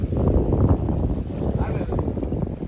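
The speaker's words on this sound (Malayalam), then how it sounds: "രാവിലെ നല്ല കാറ്റും വല്ലാത്തൊരു കാലാവസ്ഥ" Strong morning wind on a Saudi Arabian seashore where people are out fishing and crabbing, a steady low buffeting rumble close against the microphone that holds throughout without a break.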